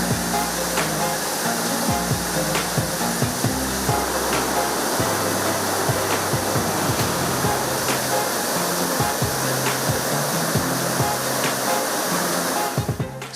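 Surlabbi waterfall in Kodagu, a roadside falls, roars with a loud, steady rush of water close by, heavy spray noise continuing unbroken with a few low thumps and no talking.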